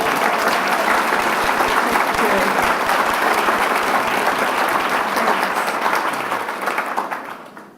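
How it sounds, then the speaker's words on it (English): A crowd at a film Q&A session gives a full round of applause, thick continuous clapping that holds steady for several seconds and then fades out near the end. "Please give them a big round of applause."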